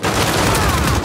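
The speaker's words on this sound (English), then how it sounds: "I'm shooting this guy over here" Close, loud automatic gunfire in an Uncharted 4 multiplayer match, a dense unbroken volley of shots filling the whole moment.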